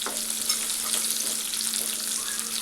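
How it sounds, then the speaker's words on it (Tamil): Small shallots, large onions and garlic cloves sauté in a pan, a steady bright sizzle with faint stirring scrapes running continuously at moderate level, with no voices. "கொஞ்சமாக கருவேப்பிலை சேர்த்து முதல்ல வதக்கிக்கலாம்."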